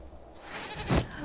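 In a video game, a goat brought along by a man attacking a building lets out one short, loud bleat near the end, over quiet background ambience.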